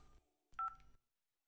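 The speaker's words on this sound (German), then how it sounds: "Thomas, rufst du an?" A phone keypad gives a brief dialing tone, one short clear electronic beep after a soft murmur, then silence.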